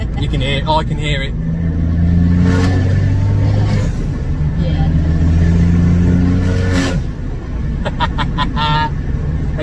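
A car engine revs through a new exhaust, droning and rising in pitch under steady cabin noise, with a person talking over it now and then.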